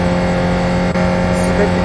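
Engine drone of a modded Ford Transit van in Euro Truck Simulator 2, a steady loud hum that briefly cuts out near the middle before resuming, with no talk over it.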